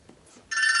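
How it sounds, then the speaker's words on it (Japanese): A telephone starts ringing abruptly after a near-silent moment, a loud, bright, continuous electronic ring heard on its own. "電話だ。"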